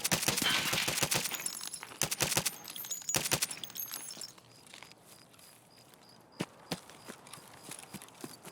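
Pistol shots ring out in Escape from Tarkov, a rapid cluster of sharp cracks followed by a few more isolated shots, with footsteps scuffing between them.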